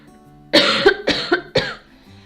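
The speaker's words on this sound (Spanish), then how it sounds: "Como estoy con la tos, perdón." A woman with a cough coughs three times in quick succession while working on album decorations indoors, close to the microphone, with a quiet background before and after.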